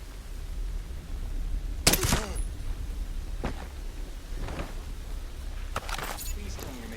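Suppressed rifle shots in the video game Ghost Recon Breakpoint, a few sharp isolated cracks spaced seconds apart over a low steady background rumble, with no talk between them.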